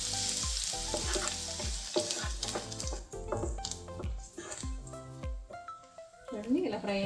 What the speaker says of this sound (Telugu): ఇప్పుడు సన్నగా తరిగి పెట్టుకున్న వెల్లుల్లిపాయలు వేసుకుందాం. వేసుకుని ఇలా ఫ్రై చేసుకోవాలి.